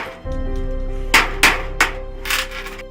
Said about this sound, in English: Carefully use the hammer to pierce the iron with the panga to cut it into the proper shape.